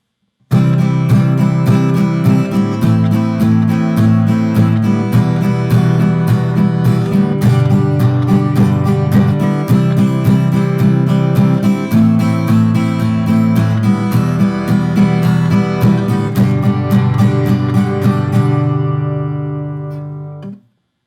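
Strummed guitar chords ring out steadily in a repeating progression, full and close, with no voices, fading out at the end.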